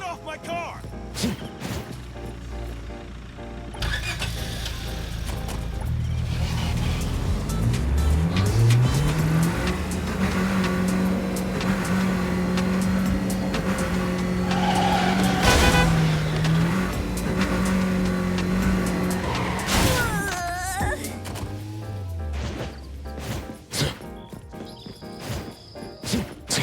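Car in the video game Neverness to Everness driving off with a rising engine drone, then skidding and crashing, heard loud and close over game music with bursts of talk.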